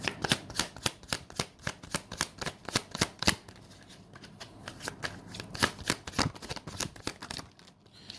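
A deck of tarot cards being shuffled, with quick riffling bursts and repeated soft slaps in a steady rhythm, close and fairly quiet, with no talking.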